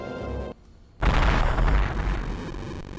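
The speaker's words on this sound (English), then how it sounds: "There was an explosion!" An explosion in Metroid Fusion bursts out after a brief pause, a loud, dense rumbling boom that lingers and fades slowly under game noise.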